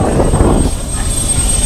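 An aircraft in flight over New York fills the cabin with a loud, steady engine roar and rumble, close and constant throughout with no gaps.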